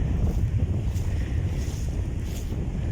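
Waves wash against the shore at a seaside spot, a steady broadband rush of surf mixed with gusting wind buffeting the microphone, fairly loud and continuous with no talking.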